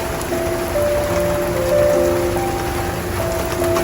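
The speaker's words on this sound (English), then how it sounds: "and here comes a whole load of rain." Heavy rain pours at a camping spot, a dense continuous hiss of drops on surfaces, loud and steady, with faint tonal hums running underneath.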